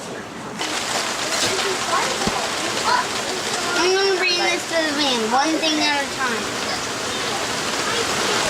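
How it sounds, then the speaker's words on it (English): Heavy pouring rain drums steadily on surfaces outdoors near a van, a dense continuous wash that stays loud throughout while people talk over it. "It is pouring rain."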